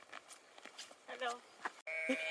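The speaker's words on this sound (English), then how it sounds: "The sheep just said hello." A sheep bleats on a Lake District hillside, a short nasal call near the end, preceded by quiet rustling and light talk from a nearby hiker.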